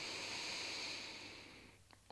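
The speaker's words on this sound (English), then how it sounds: "breathing in through your nose" A slow, steady breath drawn in through the nose during a closing yoga practice, a soft airy hiss that holds for over a second and then fades, with a few faint clicks after.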